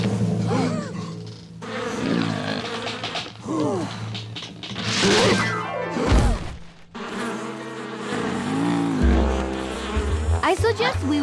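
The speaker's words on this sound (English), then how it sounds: "The bees are protecting their home." Cartoon bees buzzing around their hive in a dense, wavering drone that swells and fades, layered with whooshing sweeps and playful sound effects, with no talk.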